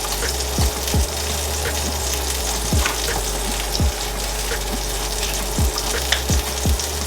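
An egg fries in a hot pan for a sausage egg McMuffin, giving a steady, close sizzle with scattered sharp pops and crackles throughout.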